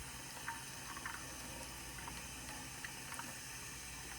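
Tap water runs in a steady low wash while a toothbrush is rinsed, with a few soft splashes and clicks on top and no voices.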